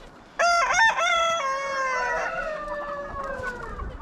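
A single bald-necked rooster crows loudly nearby, a long drawn-out call that trails off, with faint background noise.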